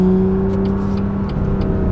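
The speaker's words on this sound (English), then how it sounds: "It is absolutely mind-boggling how quickly this car accelerates." A BMW M2 accelerates hard, its engine roaring loud and close with a steady, strained tone that rises slightly over two seconds.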